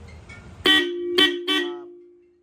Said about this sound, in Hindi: कान सुन करे वाला हॉर्न है।